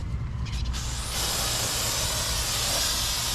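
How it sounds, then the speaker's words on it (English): A steady, loud hiss from a spray can on a tire runs continuously for several seconds with no one talking. "Spray it one more time."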